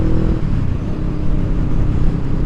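A Honda Rebel 500 motorcycle engine rumbles steadily and close while being ridden, a dense, continuous low drone with no pauses and no voices.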